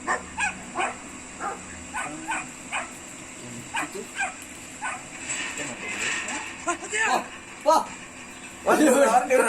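Repeated short barks and yips of a dog in the game Brothers: A Tale of Two Sons sound in quick bursts, with voices talking over and between them.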